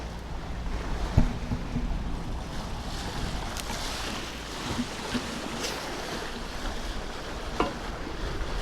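A sailboat cruising under sail through ocean waves in the Exuma Bahamas, with steady wash of water and wind along the hull, occasional soft knocks and splashes, no voices.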